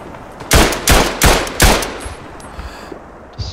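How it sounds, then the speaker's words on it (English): Machine gun in the World War I video game Tannenberg firing four loud, sharp, evenly spaced shots close by, each with a short echoing tail, followed by quieter rumble. "This is a well positioned machine gun."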